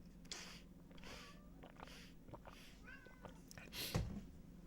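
A house cat meows several times close by, short rising calls scattered over steady room hum and a low background drone, with one louder burst near the end.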